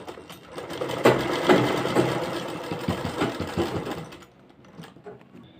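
A sewing machine stitches along the folded fabric edges of a garment neckline, a close rhythmic mechanical whirring in quick bursts that tapers off near the end.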